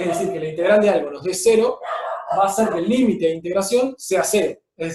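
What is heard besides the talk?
None of the usual background noises is heard.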